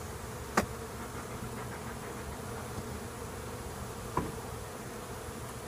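A low, even buzz of honeybees rises from an opened hive just given smoke, broken by two sharp knocks of hive equipment.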